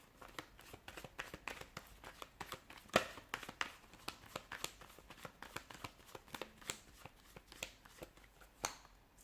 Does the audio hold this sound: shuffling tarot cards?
yes